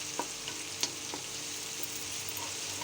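Chopped chillies and coriander lightly browning in a pan, a steady low sizzle with a few sharp clicks of a spoon against the pan, nobody speaking.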